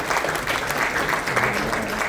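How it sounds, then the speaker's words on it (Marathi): Loud, steady audience applause at an event launching new Star Pravah television serials, a dense crowd clapping continuously without pause. "एकदम जोरदार टाळ्या झाल्या पाहिजे"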